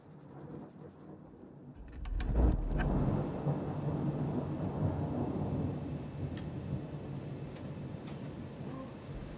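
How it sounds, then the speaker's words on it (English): Thunder outside during a storm: a sudden low crack, then a long, deep rumble that rolls on steadily for several seconds over a faint rain-like hiss, with no voices. "Did you guys hear that thunder?"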